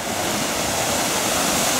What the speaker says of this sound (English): The water is really splashing out of this.